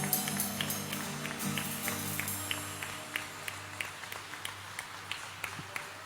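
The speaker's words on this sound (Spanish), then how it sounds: "Denle un aplauso de gloria." A church congregation applauds during a Spanish-language service, with scattered, uneven claps over a low hum of room tone and held organ-like tones, fairly distant and soft, thinning into sparse individual claps toward the end.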